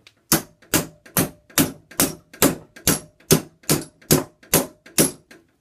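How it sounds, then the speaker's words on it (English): A hammer taps a Stanley nail claw clamped in a vise, producing twelve sharp, evenly spaced metallic strikes about half a second apart, close and clear with no talking. "Take the hammer and tap it."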